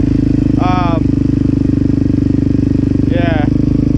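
A cold Yamaha TTR 125 dirt bike fitted with an FMF exhaust idles with the choke on, a steady, close, loud, even putter throughout, with a couple of brief bits of talk over it.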